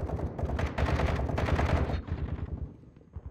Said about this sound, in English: A lot of fire going on upstairs.